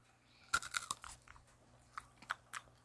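Decades-old canned peanut butter bits from the sixties are bitten and chewed up close, giving a sharp initial crunch followed by a quick run of crisp crunches, then a few spaced, quieter chews.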